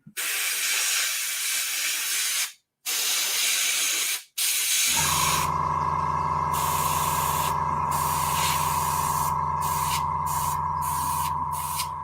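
An airbrush or spray gun sprays colour onto leather in loud, close hissing bursts, with two short pauses, followed by a steady hiss under a droning hum and quick, repeated spurts of spray.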